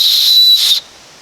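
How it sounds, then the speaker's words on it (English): A small whistle built into a knife handle is blown once, a shrill, steady tone lasting under a second before cutting off into quiet. "It's not the loudest whistle I've ever known."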